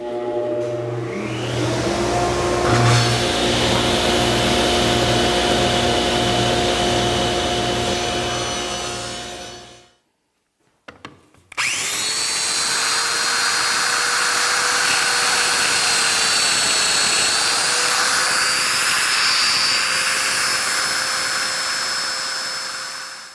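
A table saw cuts grooves in cabinet panel pieces, a loud sustained whine while a piece feeds through, then a brief stop with a few knocks before the blade spins again, steady and close.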